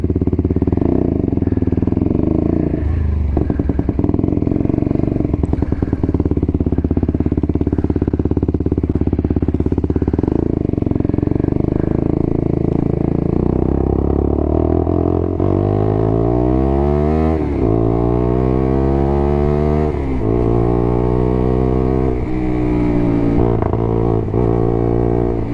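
A 2022 Lexmoto motorcycle engine is started and left running with a close, steady putter. Later it gives a series of rising and falling revs before settling back to idle.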